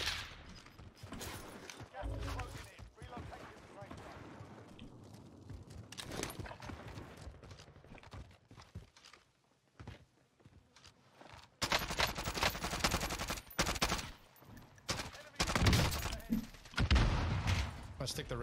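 Gunfire rattles through a Call of Duty Warzone match in bursts and single cracks, sometimes near and loud and sometimes more distant, with quiet stretches between volleys and talk over the top.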